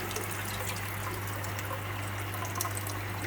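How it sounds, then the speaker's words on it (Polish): Water trickles and drains out of angelfish-breeding aquarium plumbing after the pump shuts off, a faint steady wash with a low constant hum beneath and no talk. "spłynie całkowicie woda z układu"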